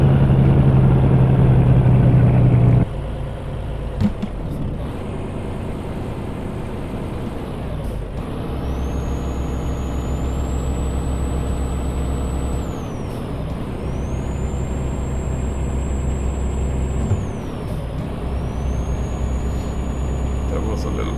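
A truck engine in the video game Euro Truck Simulator 2 drones steadily and loudly, with a rising whine that climbs and falls repeatedly as it over-revs, after an opening burst of engine noise; talk is heard alongside.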